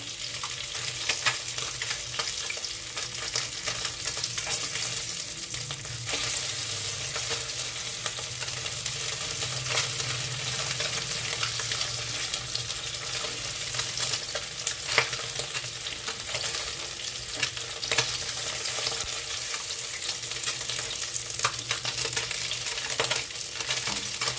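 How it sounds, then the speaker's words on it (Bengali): Singi fish shallow-frying in a pan after being turned over, a dense, even sizzle and crackle holding steady throughout, close and moderately loud, with no speech. "মাছের একটা সাইড ভাজা হয়ে গেছে, অপর সাইডটা উল্টে দিচ্ছি ভেজে নেওয়ার জন্য।"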